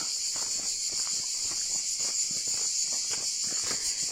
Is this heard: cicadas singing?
yes